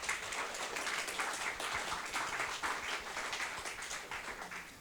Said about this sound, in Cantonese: 我都想借大家嘅掌聲呢去俾我哋嘅高山老師。